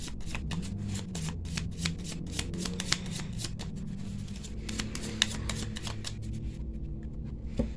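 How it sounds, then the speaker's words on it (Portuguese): A deck of Gypsy tarot cards being shuffled by hand, with steady soft riffling and sharp crisp card snaps scattered throughout, close and fairly quiet, with no speech. "Embaralhei nossas cartas."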